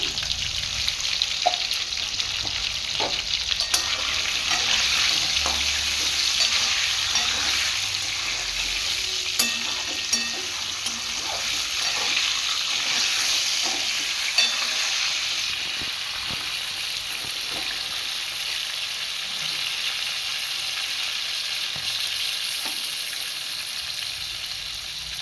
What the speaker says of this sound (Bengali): পটলগুলো ভাজা হয়ে এসছে